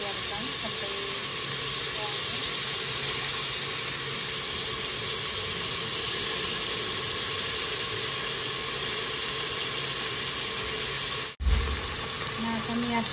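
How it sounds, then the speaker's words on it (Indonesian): Sliced ingredients sautéing in a pan for Arabic-style fried rice, a steady sizzling hiss held close throughout with a brief clatter near the end, under a person talking. "Kita tumis sampai layu dan mewangi."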